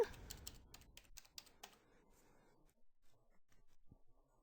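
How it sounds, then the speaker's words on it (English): Keystrokes on a computer keyboard as a login and password are entered, a fast burst of crisp clicks at first, then sparser, quieter taps and a final isolated press, close up with no talking. "I'm going to go ahead and put in our login and password"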